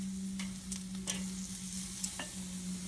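Flat iron steaks sizzle over high heat on a grill, a steady close frying hiss with a few faint clicks and pops, no voices.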